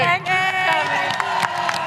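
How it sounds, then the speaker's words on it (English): Live audience at a D&D show at MCM Birmingham breaking into cheers and clapping, a brief swell of whoops and applause with voices calling out over it. "Big round of applause for Johnny, everyone."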